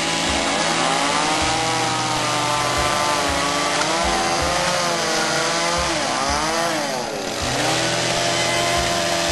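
Chainsaw cutting through a dry branch during garden clearing work, the engine whining loud and steady with pitch dips as the chain bites into the wood, running continuously up close.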